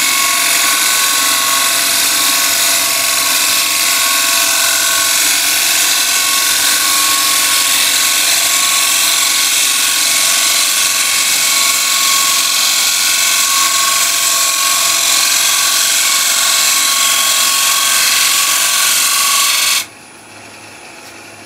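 Wood lathe cutting a bowl from scrap wood, a steady, loud, continuous whirring hiss of the tool shaving the spinning blank with no breaks, cutting off abruptly near the end to a quieter hum.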